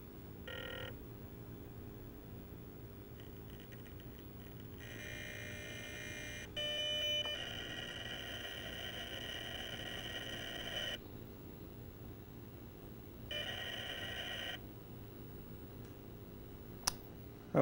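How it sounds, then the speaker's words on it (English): A Windows 95 era dial-up modem connecting to an internet service provider, with steady tones, bursts of high screeching handshake noise and brief pauses between them, faint and isolated with no talking. "now Exchange will dial up my Internet service provider"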